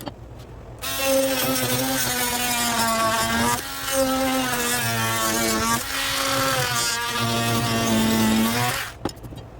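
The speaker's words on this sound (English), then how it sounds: "one of these little oscillating tools. They work pretty good." An oscillating multi-tool cutting plastic-like vinyl flooring, giving a loud, steady buzzing whine in several bursts with brief dips in between, close up and without talking.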